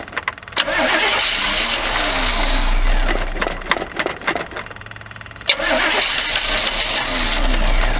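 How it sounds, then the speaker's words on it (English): A 1979 Chevy G20 van engine cranks repeatedly without catching, its starter whirring in long bursts broken by a brief pause, loud and close with no talk. "Hopefully we can get it to pick up and run."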